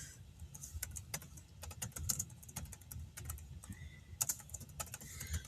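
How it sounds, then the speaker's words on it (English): Close, steady typing on a computer keyboard, with a continuous run of crisp key clicks and a few brief pauses, carrying on alone without talk. "I'm not going to say it right, so we'll just type it in."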